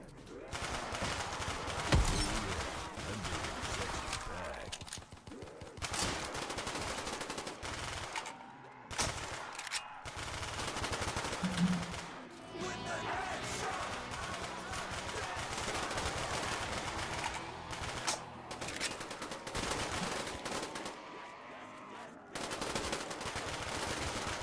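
Rapid gunfire in Black Ops 3 Zombies on the Hellevator custom map, long stretches of fast automatic bursts broken by short pauses, loud and close, with occasional talk over it.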